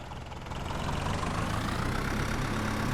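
A steady, low engine idle hums continuously, its rumble rising slightly after the first moment and then holding even, with no voices.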